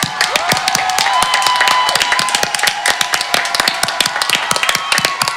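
An indoor audience applauds at a Glazen Huis charity event in Geleen, with many close, sharp hand claps forming a dense, steady round of clapping, loud and near, while someone whoops briefly.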